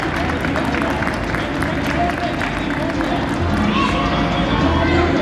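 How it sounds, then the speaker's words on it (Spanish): Steady applause and cheering from a crowd at a salsa dance congress in a gym, a dense wash of clapping with crowd babble running throughout at fairly close range. "El aplauso para ellos, por favor."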